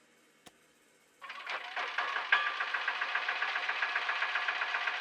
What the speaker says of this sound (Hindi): दीदी, ये मुझे पता है, शेयर ऑटो की आवाज है ये